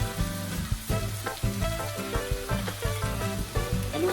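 Kimpura fried rice sizzles loudly in a hot pan with soy sauce, pepper and salt, while a utensil scrapes and clatters in a quick, uneven stirring rhythm close by.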